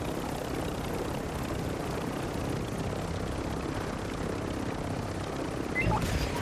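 A helicopter in the Warzone 2 game gives a continuous whirring rotor drone at steady loudness, with a brief sharper burst near the end.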